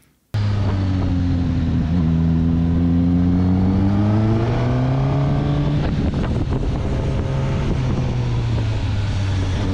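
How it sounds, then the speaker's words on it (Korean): A 2021 Suzuki GSX-S1000 liter-class naked motorcycle starts abruptly and revs loudly up close, its deep engine note rising and falling with the throttle in a sustained, alone-standing roar. "그리고 엔진음도 아주 장난 아니에요."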